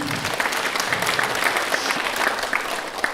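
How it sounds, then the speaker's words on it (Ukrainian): An audience claps for Ukraine, a brief, even burst of applause from a crowd that holds steady at moderate loudness throughout. "оплески Україні, будь ласка"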